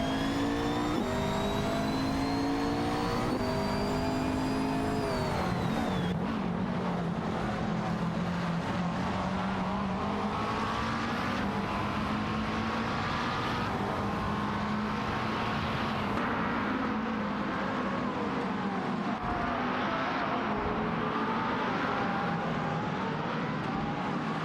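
Race car engines in a racing video game roar and rev continuously, with shifting pitch as cars accelerate and pass close by, loud and steady throughout with no talk.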